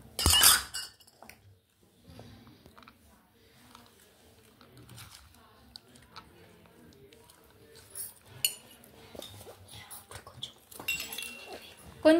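A cucumber salad is mixed with green chillies and ginger, light scattered clinks and scrapes of a utensil against a bowl, faint and irregular, with louder knocks at the start and end.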